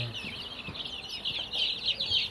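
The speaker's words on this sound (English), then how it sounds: "We got some lots of chicks in there." Chicks and chickens in a coop, with a steady chorus of high peeping and scattered low clucks that continues throughout.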